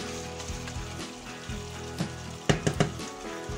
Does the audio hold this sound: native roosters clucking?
no